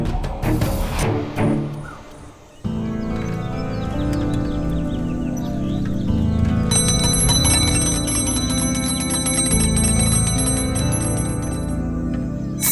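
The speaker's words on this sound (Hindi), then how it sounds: "संजू क्यों घंटी बजा रहा है?" A hand bell is rung over and over indoors, a steady run of bright metallic rings layered over a busy background with other sounds mixed in.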